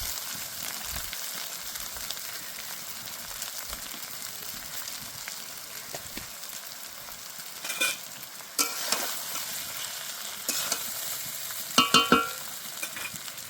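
Vegetables go into fried rice in a hot pan, giving a steady sizzle with scraping stirs and a few sharper clatters of the spatula near the end, with no voices.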